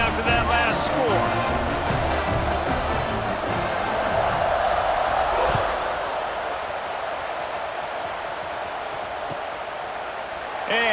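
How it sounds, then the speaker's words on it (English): Stadium crowd in EA Sports College Football 26 keeps up a steady buzzing roar after a touchdown, heard under continuous commentator talk. "this crowd is buzzing after that last score."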